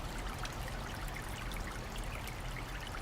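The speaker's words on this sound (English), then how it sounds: "Oh, here comes the water." Clean spring water trickles steadily in the mountains near Tokyo, a soft, continuous splashing hiss that stays even and fairly quiet with no voices.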